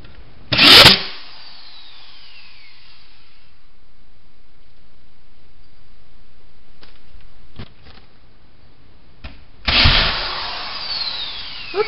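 A screw gun drives screws into lifted drywall sheetrock, with two loud, brief whirring bursts at the start and near the end and faint mechanical clicks in between, with no voices.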